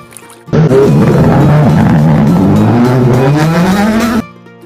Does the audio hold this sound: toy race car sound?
yes